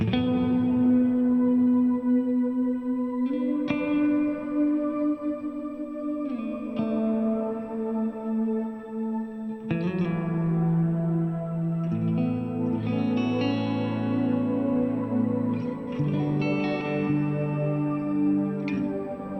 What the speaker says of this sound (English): See, you can hear the distortion.